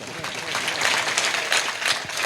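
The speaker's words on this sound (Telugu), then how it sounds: "ఇంకొకసారి మీరందరూ ఒకసారి చప్పట్లు కొట్టండి." A church congregation at a thanksgiving Mass breaks into dense, steady applause, the crackle filling the whole stretch at an even, fairly loud level with no talk over it.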